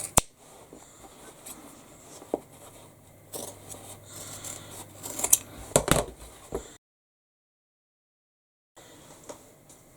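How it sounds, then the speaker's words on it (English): Scissors trim the seam allowance from the corners of a fabric bag lining, giving a few quick, close snips and cutting rasps in a quiet room, then a short stretch of silence. "you can trim the seam allowance from the corners"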